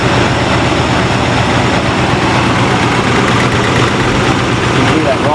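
A Chevy engine fitted with 1.6 offset rockers idles loudly and steadily up close, a dense continuous rumble with no clear pauses.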